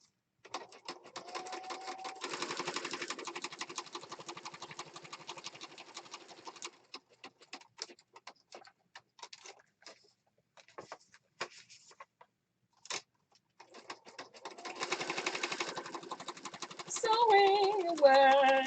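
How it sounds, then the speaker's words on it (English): A sewing machine stitches around the edge of a junk journal in rapid, light mechanical bursts, stopping and starting with short pauses and quiet handling sounds in between. "over to the sewing machine and we're going to sew around this outside edge"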